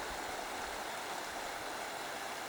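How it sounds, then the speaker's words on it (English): A small river in the Cairngorms of Scotland flows with a steady, even rushing hiss, moderately close and constant, with no voices or other sounds. "There's a river comes down here."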